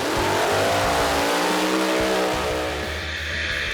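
Door slammer drag racing cars roar down the strip in round one, a loud sustained engine howl with rising revs and deep rumbling exhaust, filling the whole stretch.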